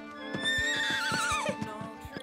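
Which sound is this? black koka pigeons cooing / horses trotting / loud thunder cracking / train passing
horses trotting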